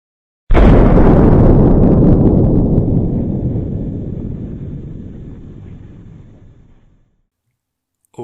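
Over 2,200 pounds of black powder detonate underneath the 3rd Louisiana Redan during the 1863 Siege of Vicksburg. The mine erupts in one sudden, very loud blast that rumbles on and fades slowly for several seconds before silence.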